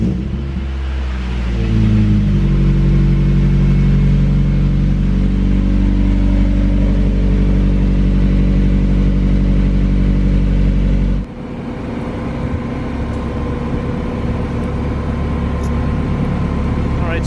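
A Mazda Miata engine fires up on a cold start and settles into a loud, deep, steady exhaust idle with a strong low rumble, then the tone shifts to a rougher, busier idle partway through.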